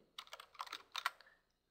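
Quick keystrokes on a computer keyboard, a short run of about a dozen crisp clicks in two bursts, close and clear with nothing else around.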